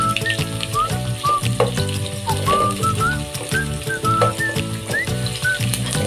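Garlic fries in a pan, browning fast, with a steady crackling sizzle and stirring bumps while a light whistled melody runs over the top throughout.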